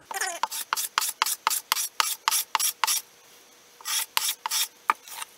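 A hand tool rounds the corners of a wooden napkin holder in brisk, evenly spaced rasping strokes, about a dozen in a row, a short pause, then several more, close and clear.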